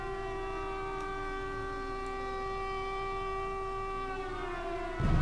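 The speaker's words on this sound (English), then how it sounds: "Too bad we can't blow up the air sirens." Air raid sirens in the Pacific war game Victory at Sea Pacific, set during the assault on Iwo Jima, hold a steady, loud wailing tone for several seconds before a sudden burst of noise near the end.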